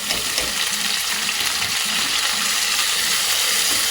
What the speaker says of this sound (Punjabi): ਜਦੋਂ ਤੱਕ ਆਪਣਾ ਇਹ ਲਸਣ ਪਿਆਜ਼ ਭੁੱਜਦਾ ਵਾ